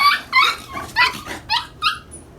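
A small dog whimpers and yips in a string of short, high-pitched cries, about six bursts over a couple of seconds, close to the microphone with no talking.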